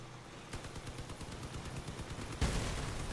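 Rapid bursts of vehicle-mounted weapon fire in the Crossout vehicle combat game, a steady rattling series of shots throughout, with a louder, denser blast near the end.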